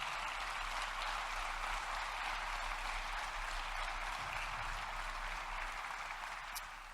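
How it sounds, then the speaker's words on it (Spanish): A church congregation applauds during a sermon, a steady, even roar of many hands that holds at a moderate level and eases slightly toward the end, with no speech over it. "Dele fuertes aplausos"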